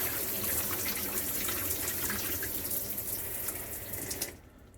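Hot water gushes steadily from a shower in a home plumbing setup, a loud, continuous hiss and splash that runs for several seconds and then cuts off abruptly.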